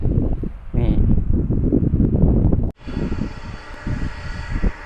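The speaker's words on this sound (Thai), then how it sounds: "เครื่องกำลังจะขึ้นอันนี้ เครื่องขึ้นนะครับ" A jet taking off at Phuket airport by Mai Khao beach gives a loud, steady engine roar mixed with heavy wind buffeting on the microphone, with a person talking over it.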